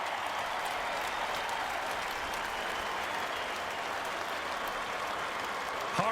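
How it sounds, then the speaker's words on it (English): A large stadium crowd at a Georgia Tech college football game applauds continuously, a broad, steady wash of clapping and crowd noise heard from a distance with no voice over it. "Listen to this crowd honor these guys."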